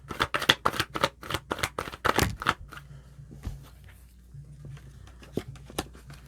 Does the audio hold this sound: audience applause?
no